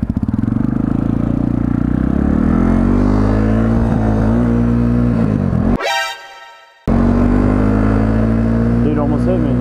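A dirt bike engine drones loud and close while riding on a muddy trail, its pitch rising and falling with the throttle, cutting out briefly near the middle before returning, with talk over it.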